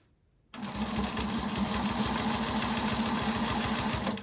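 A sewing machine starts after a brief silence and then runs steadily at a constant speed, close and loud, as it stitches quilting lines on flying geese quilt blocks. Its fast, even needle rhythm continues without pause, and no one talks.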